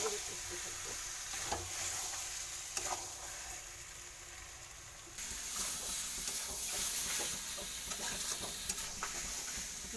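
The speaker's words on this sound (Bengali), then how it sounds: "দু তিন মিনিট ধরে আমি ভালোভাবে কষতে থাকবো।" Mutton sautéed and stirred in a pan for a meat broth, a quiet continuous sizzle with occasional scraping stirs, steady across the whole stretch.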